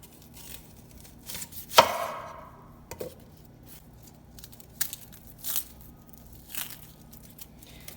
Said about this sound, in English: First of all, we need to chop an onion.